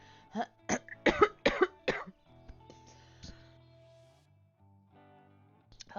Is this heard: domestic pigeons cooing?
no